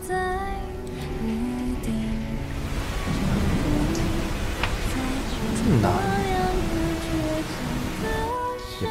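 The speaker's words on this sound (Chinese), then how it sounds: "我看这天气估计又要下大雨了" Heavy rain pours steadily with thunder rumbling beneath, while music and voices play over it.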